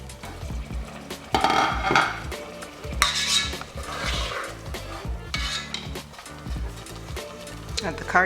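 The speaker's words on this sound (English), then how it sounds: "Fry the stew." Nigerian beef stew frying in a pot while being stirred, with repeated metal spoon scrapes and clinks against the pot over a sizzle, close and fairly loud, with a voice speaking at times.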